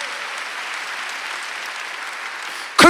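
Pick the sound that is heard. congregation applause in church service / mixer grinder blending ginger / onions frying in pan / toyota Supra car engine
congregation applause in church service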